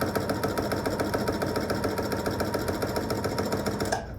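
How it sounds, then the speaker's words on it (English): A sewing machine stitches pieced quilt block squares with a fast, steady mechanical whir and chatter, loud and close, running continuously before stopping abruptly at the end. "So we're just going to sew these."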